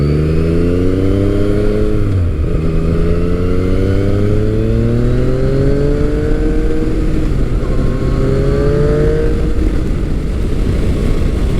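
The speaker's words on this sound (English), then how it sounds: "the sound from that motor is intoxicating" A Yamaha FJ-09 motorcycle engine revving loud and close, its pitch climbing and falling through repeated throttle sweeps with a brief dip partway, continuous and without speech.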